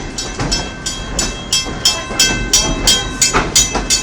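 A Greenfield Village Railroad heritage train rolls along close by, its wheels clacking over rail joints in a steady rhythmic pattern with a faint whistle tone running underneath.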